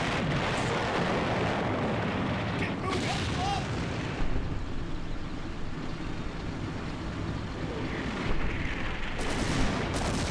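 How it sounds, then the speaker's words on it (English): Artillery fire in the wartime strategy game Combat Mission: Beyond Overlord, a dense, continuous rumble of distant booms and blasts with a few sharper bursts toward the end, layered under game ambience. "And the artillery started firing from the other artillery spotter on the right flank"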